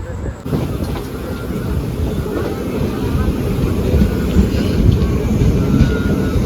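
A train arriving at Kamareddy station rumbles steadily with a low, continuous roar and rattling, loud and close throughout, with no pause.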